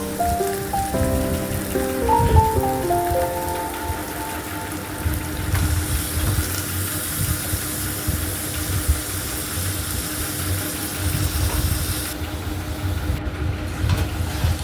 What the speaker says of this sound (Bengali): এবার মাটনটা দিয়ে দেব, দিয়ে খুব ভালো করে এখন 20-25 মিনিট এখন একটু কষাবো